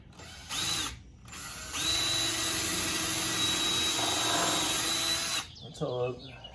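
A power drill boring pilot holes into pallet wood for a bike rack brace, with a short burst followed by a long, steady high whine lasting several seconds, then a brief final spin, close and loud.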